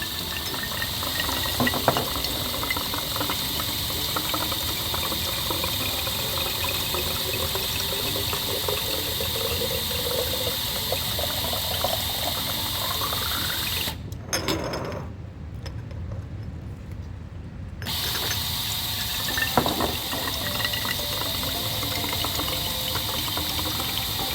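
A Hanchen HC-40 dual-head peristaltic pump fills hot sauce bottles with a steady liquid-pouring, whirring sound that cuts out briefly for a few seconds during the pause between fills, then resumes.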